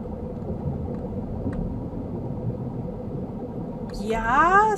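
A low, steady engine rumble from a rover mount in Wizard101 hums throughout, and a voice breaks in over it near the end.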